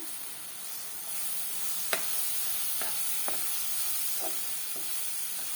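Semolina stirred with ghee and banana in a hot pan gives a steady frying hiss, broken by a few sharp spoon scrapes and taps against the pan. No one speaks.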